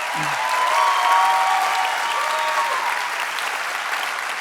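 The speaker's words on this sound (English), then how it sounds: "One more round of applause for everyone for their great work." A large ballet theatre audience at a dance competition applauds, a broad, even wash of many clapping hands heard from within the hall, with a brief voice or cheer at the start.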